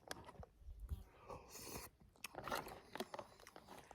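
A big dog chews and crunches food taken from a spoon outdoors in late summer, giving soft, uneven bites and wet mouth sounds close by, with no talk over it.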